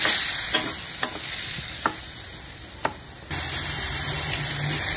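Masala for potato bhaji cooks in a pan with a continuous sizzle and frying hiss, broken by a few sharp clinks of a spoon stirring against the pan.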